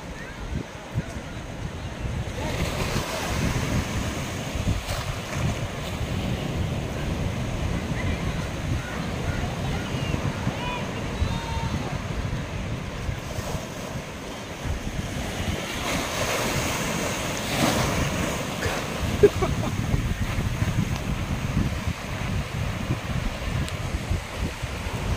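Sea waves roll and wash steadily onto Kanyakumari beach in a continuous broad rush with some wind noise, while voices talk intermittently over the surf.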